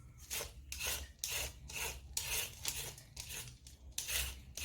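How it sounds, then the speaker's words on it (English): A vegetable peeler shaves the skin off a sweet potato in quick, steady strokes, about nine raspy scrapes in a regular rhythm, close and fairly quiet, with no talking. "I like this vegetable peeler because it's very fast"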